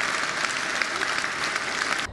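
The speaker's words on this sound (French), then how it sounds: "on lâche les manettes, quoi, et on s'applaudit parce qu'on est content." Technical crew in the control room of a political rally in Nantes clap together, a dense, steady burst of applause sustained throughout before cutting off abruptly at the end.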